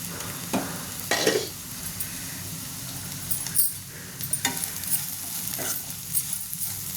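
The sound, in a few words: ivy gourd frying in pan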